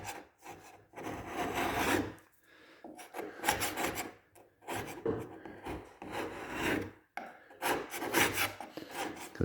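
Steel spatula scraping stripped lacquer off Huon pine wood, a rough rasping drag repeated in several long strokes with short pauses between, close and fairly loud.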